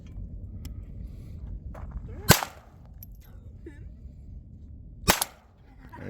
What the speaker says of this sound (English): Pistol's a lot harder to shoot.